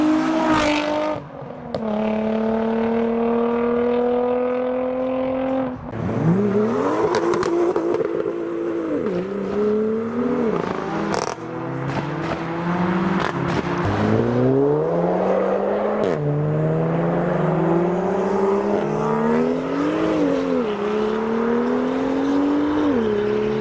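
A modified Dacia car leaves a car show, its engine revving loudly and repeatedly in rising and falling sweeps through the gears, close and dominant throughout.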